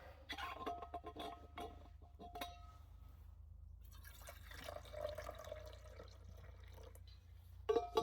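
Water poured into a pot at a cold-night cowboy camp, faint intermittent trickles and drips with a light clatter near the end, quiet and close.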